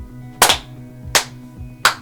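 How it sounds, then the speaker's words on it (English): Three sharp hand claps ring out alone at an even, unhurried pace, each a crisp close smack with a brief decay, set against a faint steady hum. "I want you to clap your hands"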